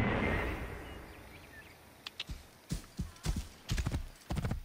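Horse hooves clip-clop in Assassin's Creed Origins, starting after a soft wind-like wash and building into a steady, fairly close walking rhythm of sharp knocks on the ground.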